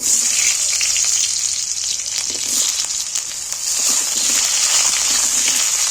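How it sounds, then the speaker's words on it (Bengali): Diced potatoes frying in hot oil in a home kitchen, a steady close hissing sizzle with faint crackles and bubbling running unbroken throughout. "আলুগুলোকে আমি একটু তেলের মধ্যে ভেজে নিচ্ছি"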